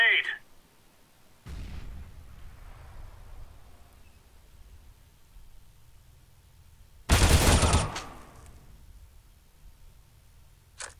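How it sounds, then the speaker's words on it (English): CS:GO round on Inferno: a sudden loud grenade blast punches through sparse quieter gunfire and scattered impacts, with a brief crackle at the start and faint lingering reverberation after the explosion. "Grenade."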